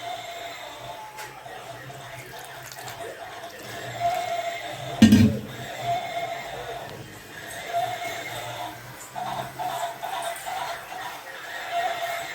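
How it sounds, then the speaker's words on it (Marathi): A horse lets out one loud, close whinny partway through, with quieter hoof clops and faint background sounds before and after in an otherwise calm domestic setting. "तुम्ही म्हणते ना घोड्याचा आवाज कुठून यायला लागला"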